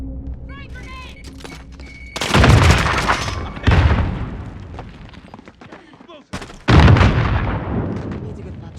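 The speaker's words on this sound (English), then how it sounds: "Throwing grenade!" A grenade explosion in the video game Warzone Rebirth Resurgence: a loud, close blast followed by a second heavy boom and a later third detonation, each with a rumbling tail, amid in-game battle chatter.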